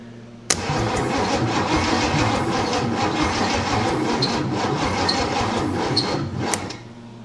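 An AMC Rebel SST engine with a faulty starter solenoid cranks steadily on the starter after brake cleaner is sprayed into the intake, a loud, continuous churning that starts abruptly and runs for several seconds before cutting off.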